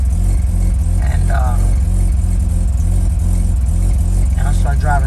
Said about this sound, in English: So as you can hear, around that RPM here, 1500, or it will brap